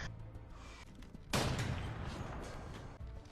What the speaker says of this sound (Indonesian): Disinilah terjadi baku tembak antara Sko dan tentara Jerman.